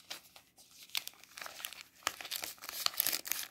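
Paper crinkles and rustles up close as banknotes are slipped into a paper budget envelope, soft scattered crackles rising to busier handling toward the end, with no talking.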